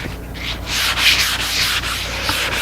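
A pine board treated with two coats of blotch control gets a quick touch sanding, heard as a close, continuous rasp of abrasive rubbing back and forth in short strokes.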